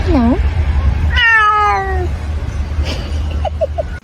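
A pet cat meows several times, with harmonic, rising-and-falling calls standing out over a steady low hum, close and fairly loud.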